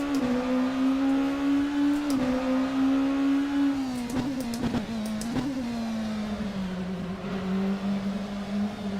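Race car engine in a racing simulator game revving steadily at high pitch, the note dipping and climbing through shifts with brief sharp clicks, loud and continuous throughout.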